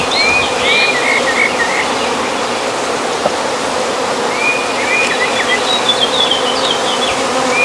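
Honey bees in an opened top bar hive hum in a dense, continuous buzz close up, with individual bees rising and falling in pitch as they fly past.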